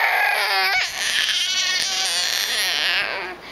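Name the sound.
baby imitating a pterodactyl screech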